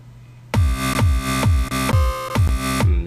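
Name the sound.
electro synth with sidechain compression in FL Studio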